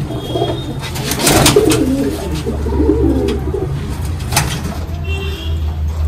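Pet pigeons, including females and young birds in a loft collection, coo in low, throaty bursts among steady background noise, with a few brief higher sounds scattered through.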